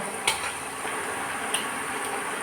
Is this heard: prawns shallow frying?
yes